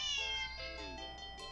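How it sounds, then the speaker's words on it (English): A cat meows sharply in a single drawn-out, wavering cry that bends in pitch, followed by a shorter second call, close and clear over a low background hum. "the cat meows sharply at you"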